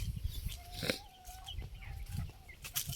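Chicks and hens cluck and peep intermittently while pecking at leftover soaked bread on the ground, with a few brief sharp calls and faint scuffling.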